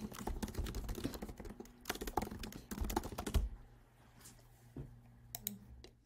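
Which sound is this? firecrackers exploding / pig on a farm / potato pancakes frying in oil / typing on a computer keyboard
typing on a computer keyboard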